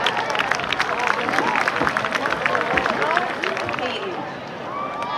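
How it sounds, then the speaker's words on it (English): Round of applause from a crowd at a high school Powder Puff event, dense clapping mixed with cheers and chatter, steady and fairly close throughout. "Please give them a round of applause."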